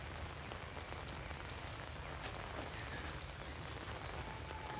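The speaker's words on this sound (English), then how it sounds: "We've been in the rain for too long." Steady rain falling in the horror video game Outlast, a faint, even hiss of drops with no pauses.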